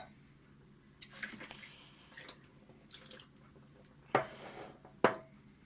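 Deionized water is poured over a 12-inch telescope mirror, splashing and trickling softly, with a couple of sharper drips or clinks near the end, fairly quiet overall.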